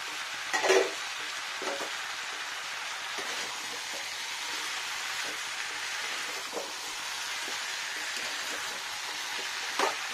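Meat sautéing in a pan with cauliflower, potatoes, peas, coriander leaves and tomato: a steady broadband sizzle throughout, broken by a few sharp stirring clatters near the start and end, with no talk.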